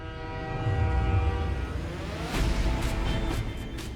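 A train rumbles steadily along the tracks, with deep low rumbling, metallic squeals and clanks swelling partway through.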